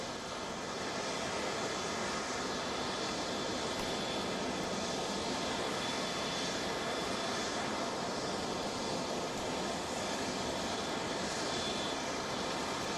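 An aircraft lands in Seoul, South Korea, its jet engines giving a steady, loud, broadband roar that holds unbroken throughout without any talk.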